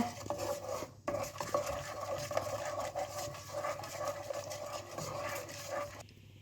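A spoon scrapes and swirls steadily around a pan of boiling sugar syrup, with soft metallic clinks and a faint bubbling hiss underneath; no talking.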